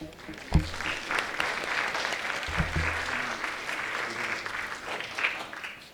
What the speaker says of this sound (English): A loud cheer for them